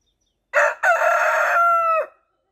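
Chickens in a backyard coop with broody hens and nest boxes, one bird giving a single loud, close crow that holds steady before breaking off, with no other noise around it.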